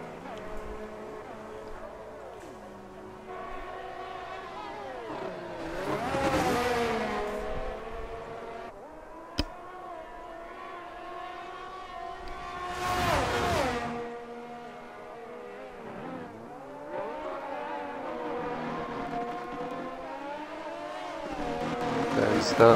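Race cars in a racing video game drive nearly wheel to wheel, their engines droning and rising in pitch through gear changes, with loud passes swelling at intervals and a commentator talking quietly under the engines.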